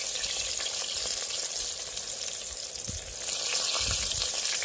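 Okra fries in a pan with a dense, continuous sizzle that stays loud and steady throughout, with occasional soft stirring movement underneath.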